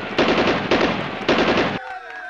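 Three loud bursts of rapid automatic gunfire from a shooting stage in a 10k beer race, each burst lasting about half a second, followed by a brief quieter tail.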